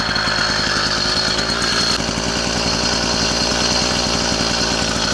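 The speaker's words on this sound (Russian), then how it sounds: "Завелась легко, запустилась. Сейчас подогрею немножко." A homemade all-terrain bike's small engine idles steadily and loudly just after starting, a continuous, even mechanical drone with no talking.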